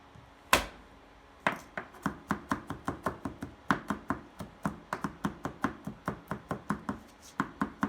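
Garlic chopped with a knife on a cutting board, one sharp thump followed by a long run of quick, even, close knocks in a steady rhythm.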